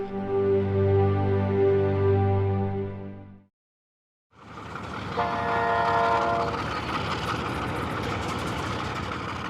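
A private train in Namibia rumbles along the rails of the country's oldest railway line with a long horn blast, a brief silence, then steady rolling clatter of wagons with another horn tone.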